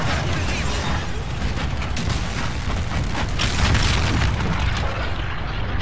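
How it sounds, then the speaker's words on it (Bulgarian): Explosions in the video game Call of Duty: Infinite Warfare: loud, dense rumbling blasts and crackling debris that run almost unbroken through the stretch, with sharper bursts layered over a heavy low roar. "преди да ме прекъсне експлозията"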